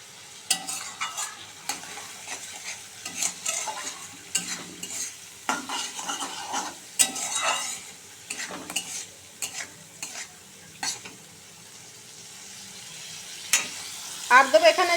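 Chopped tomato frying in a pan for a Bengali fish bhapa dish, stirred with a utensil: repeated scraping strokes over a steady sizzle, close and moderately loud, with no talking, easing near the end.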